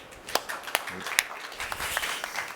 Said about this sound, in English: please welcome Mr. Daniele with a warm applause